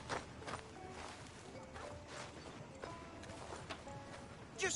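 Horse hooves walk at a steady clip-clop in the Western video game Red Dead Redemption 2. The hoofbeats are faint and in the middle distance, with a creak or two and light ambient sound behind.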